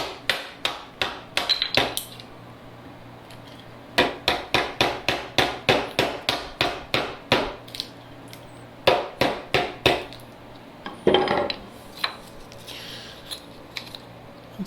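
A hand chisel chopping out a wooden tenon for a workbench build gives sharp, close mallet strikes in steady runs of quick knocks, separated by short pauses.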